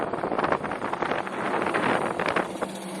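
Gusty wind buffets the microphone with a rough, continuous roar that rises and falls over a few seconds.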